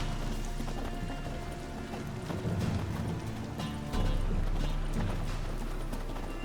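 Steady clip-clop of horse hooves trotting close by in The Witcher 3: Wild Hunt, over a low rumbling background, with a few scattered knocks along the way.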